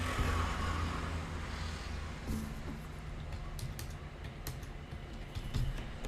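Keys tapped on a keyboard while entering a mobile number, a close series of sharp clicks following a low rumble at the start.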